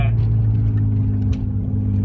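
A BMW E36 driving through town, a steady low engine hum and road drone heard from inside the car, continuous and fairly loud throughout.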